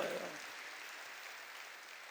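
Brief applause from a church congregation during a worship service, a soft, distant wash of clapping that fades after a short swell.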